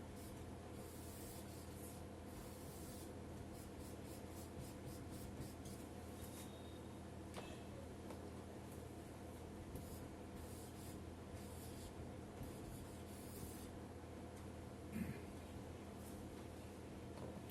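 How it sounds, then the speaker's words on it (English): Marker or chalk drawing a figure on a board during a mechanics lecture, a faint steady scratching and rubbing with short repeated strokes over a hushed room background. "So I draw the figure again."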